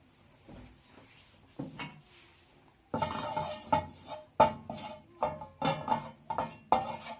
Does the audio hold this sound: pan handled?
yes